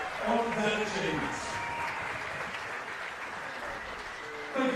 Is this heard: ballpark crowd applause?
yes